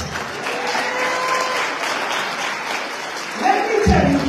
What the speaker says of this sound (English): I need an applause for that.